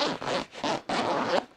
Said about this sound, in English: I know the zippers are probably just killing the microphone